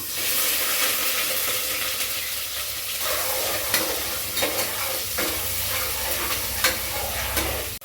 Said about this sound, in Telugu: ఇప్పుడు ఇందులో ఉల్లిపాయలు వేసుకుంటున్నాను.